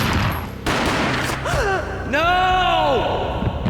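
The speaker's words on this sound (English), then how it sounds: "A gunshot boomed and she fell down in slow motion." A gunshot in the PC game Max Payne gives one booming hit near the start, followed by warped, slowed-down, voice-like sweeping tones over a dense game background.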